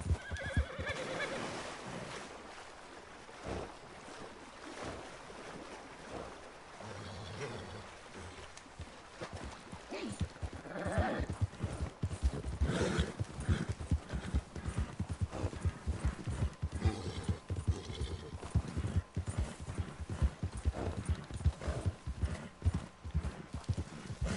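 Horse hooves clip-clop in a fast, steady rhythm in the video game Red Dead Redemption 2, with a whinny and a whooshing background. The sound is fairly loud and close.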